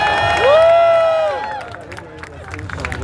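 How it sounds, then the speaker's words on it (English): A crowd gathered for a public Hanukkah menorah celebration in San Francisco's Union Square cheers with a loud shout rising over scattered clapping and babble, then settles into murmuring chatter. "Let me hear a bigger round of applause."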